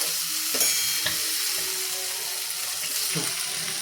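Fresh pea filling for paratha being sautéed in a pan, a soft continuous sizzle with occasional spoon knocks and scrapes, close and without talk.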